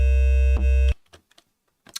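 A sustained bass tone with ring-modulation sidechain processing holds steady, its kick muted, then cuts off abruptly into sparse, faint clicking artifacts and a short burst at the end.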